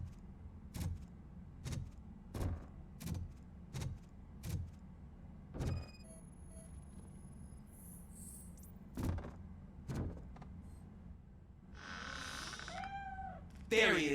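A cat meows in the video game RoboCop: Rogue City, giving a run of short, evenly spaced cries, then a few more after a pause, heard close over low game ambience.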